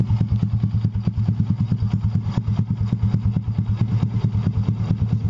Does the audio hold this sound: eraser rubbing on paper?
no